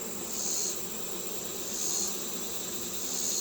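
Honey bees buzzing during a colony inspection after a removal from a house, a soft steady hum with a high-pitched whine that swells and fades in regular waves, fairly quiet with no voices.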